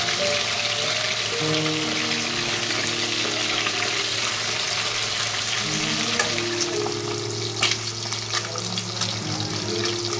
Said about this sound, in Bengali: মাছগুলো ভেজে নিই